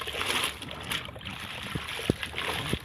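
Fabric is worked by hand in water with diluted myrobalan powder, giving soft sloshing and gurgling with a few sharper splashes near the end, close and fairly quiet.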